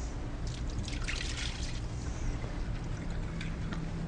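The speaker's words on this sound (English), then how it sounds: "Now we're going to pour off the water" Water is poured off a gel tray in a lab while preparing a Western blot transfer, giving a soft, close splashing trickle that fades into quieter dripping.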